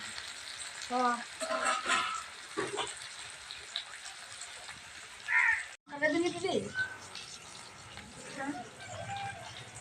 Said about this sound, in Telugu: ఇప్పుడు కొంచెం టమాటా ముక్కలు కూడా వేసేసుకోవాలి ఇవి కూడా ఫ్రై అయిపోవాలి మెత్తగా